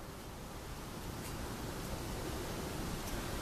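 A ghost-hunting EMF detector gives off a steady, even white-noise hiss. The hiss is faint but constant and heard alone for a few seconds.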